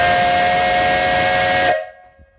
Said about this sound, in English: Real nice whistle, three chime whistle. I'll blow it here, turn down your volume if you'd like.